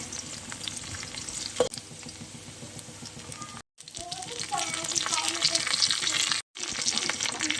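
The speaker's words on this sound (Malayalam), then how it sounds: "അതിനകത്തോട്ട് കടുക് പൊട്ടിച്ചിട്ട് നമ്മുടെ വെളുത്തുള്ളി ഇഞ്ചി എല്ലാം ഇട്ടിട്ട് നന്നായിട്ട് വഴറ്റി" Mustard seeds, garlic and ginger frying in sesame oil, a dense close sizzle with a sharp pop and stirring scrapes, briefly cut off twice before the crackling resumes.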